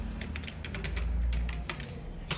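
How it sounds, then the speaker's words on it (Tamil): Typing on a computer keyboard during an MS Word lesson: quick, uneven clicks of the keys, fairly close but soft, over a low background hum with no talking. "இந்த டெலிவரி அட்ரஸை நம்ம இந்த இடத்துல டைப் பண்ணிக்கலாம்."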